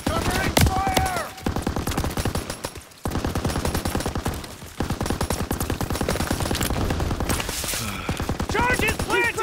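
Sustained machine gun fire in the World War II shooter Call of Duty: WW2, a loud, rapid, continuous rattle of shots with brief pauses, overlaid by shouted voices and other battle noise.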